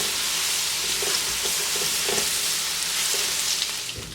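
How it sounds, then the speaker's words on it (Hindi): Garlic frying in a pan over a high flame for a chicken rice platter, a loud steady sizzle filling the whole stretch, with a spoon stirring and scraping in occasional soft knocks. "इसको अपने हाई फ्लेम पर जो है 1 से 2 मिनट के लिए यहाँ पर फ्राई करना है"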